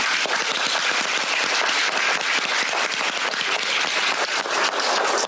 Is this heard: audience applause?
yes